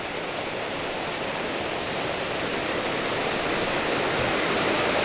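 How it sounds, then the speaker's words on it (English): A constant, dense roar of a waterfall in an enchanted garden in Brisbane, Queensland, fills the whole stretch, loud and unbroken, with no other sounds standing out. "you can hear the waterfall right behind me."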